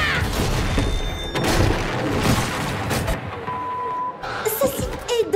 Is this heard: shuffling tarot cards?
no